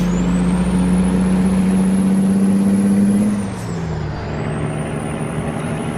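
Kenworth T800 truck in American Truck Simulator: a loud, steady diesel engine drone with a high whine, which drops and settles lower partway through as the truck eases off, close and continuous.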